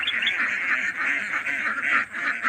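A flock of farm ducks quacking continuously, a dense, overlapping chorus of calls near at hand, no talk.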